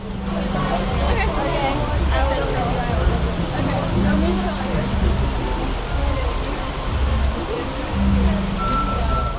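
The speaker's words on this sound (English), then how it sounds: "we just had another absolutely savage downpour then" Heavy rain downpour at a Florida theme park, a loud steady hiss of rain hitting the ground with crowd chatter and faint tones beneath, constant across the whole stretch.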